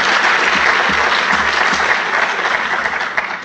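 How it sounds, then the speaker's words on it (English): Round of applause from a conference audience at a Perl talk, a loud burst of dense clapping that holds steady and then starts to fade toward the end. "Give them a round of applause"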